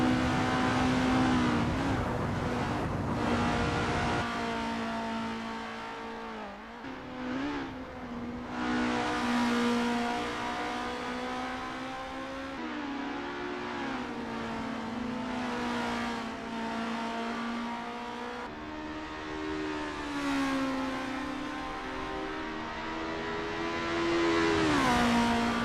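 A formula race car engine in a racing video game at Zandvoort drones on a practice out lap, its steady high whine rising and falling through gear changes and throttle lifts, loud and continuous.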